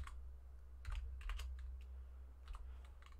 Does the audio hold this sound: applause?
no